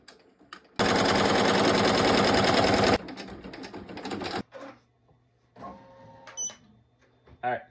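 Embroidery machine stitching patches, a loud rapid mechanical hum and clatter running for about two seconds, then stopping and leaving quieter clicks and faint tones.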